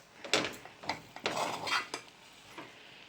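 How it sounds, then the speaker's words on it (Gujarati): Stuffed bitter gourd is stirred in a cooking pot with a metal spoon, giving a few scattered scrapes and clinks against the pot, close but fairly soft, with no talking. "આપણે એને હવે હલાવીએ મિક્સ કરીએ બરાબર સરખી રીતે"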